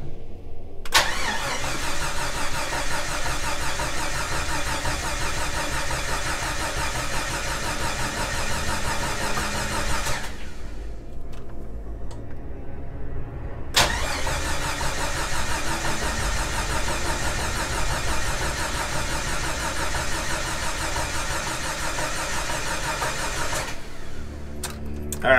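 A Jeep engine fitted with a Howell EFI kit cranks, catches and runs for about nine seconds before cutting out, then starts again and runs another stretch before stopping, loud and near.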